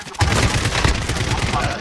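Gunfire in Call of Duty Warzone comes as a loud, dense burst of rapid shots that fills the whole moment.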